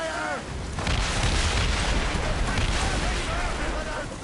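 Ship cannon fire during a naval battle in Assassin's Creed Rogue: a loud, rumbling barrage of booms that blends into a continuous roar, after a brief shouted voice at the start.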